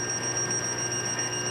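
A steady high-pitched electronic tone from a touchless voltage tester sounds continuously at moderate level, a thin buzzing beep with no breaks.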